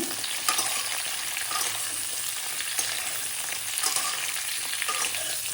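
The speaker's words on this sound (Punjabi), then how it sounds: "ਗੋਭੀ ਦੇ ਨਾਲ ਹੀ ਥੋੜਾ ਜਿਹਾ ਫਰਾਈ ਕਰ ਲੈਣਾ" Mixed vegetables, carrot, potato and cauliflower, fry in a pan with a steady, close sizzle and crackle, broken by occasional stirring scrapes, with no one speaking.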